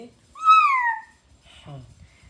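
A voice imitates a cat with one falling meow, followed by a brief bit of speech.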